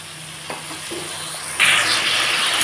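Mustard masala stir-fried with a little added water crackles at a low level with light stirring taps, then bursts into a louder, sharper sizzle partway through that continues to the end. No one speaks.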